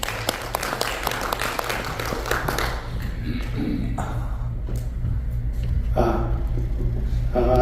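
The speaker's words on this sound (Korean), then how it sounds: "박수로 맞아주시죠." An audience in a seminar hall applauds to welcome a speaker, with steady clapping of many hands for several seconds before it thins out and a voice begins over the fading noise.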